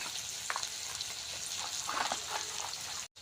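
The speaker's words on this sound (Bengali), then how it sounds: "পেঁয়াজ একটু ভেজে নেব।" Onions frying in a pan for a Bengali mutton curry, a steady close sizzle broken by soft scraping stirs, with a brief dropout near the end.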